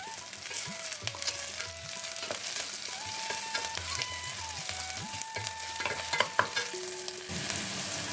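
Onion sautéing with ginger and garlic in a pan for beetroot pulao, with a steady sizzle and the scrape of stirring throughout, while a faint tonal hum drifts in the background.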